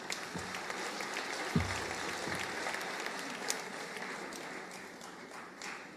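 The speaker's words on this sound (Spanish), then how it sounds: "Entonces, un aplauso." Applause from an audience at a pastoral evaluation gathering, a soft, steady wash of clapping heard from some distance, with a few sharper claps standing out.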